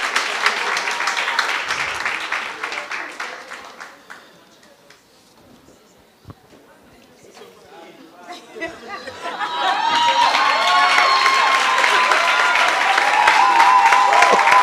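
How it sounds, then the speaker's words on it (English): An audience at a township business workshop pitching challenge applauds and cheers the winning pitcher. Clapping fades into murmured chatter and scattered laughter, then swells again into loud, sustained applause with cheers. "a round of applause for Uzolega from"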